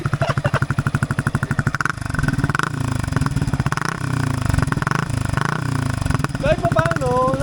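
A Yamaha XSR 155 motorcycle engine idles with a deep, rapid pulsing putter, then revs up into a louder throaty roar; close and dominant, with an exhaust silencer muffling the exhaust tone.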